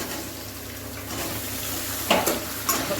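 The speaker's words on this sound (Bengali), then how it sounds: "টমেটোটা একটু আমি ভাজা ভাজা করে নিব।" Chopped tomatoes frying in a pan for paneer bhurji give a steady, close sizzle, with two brief louder bursts of stirring or scraping near the end.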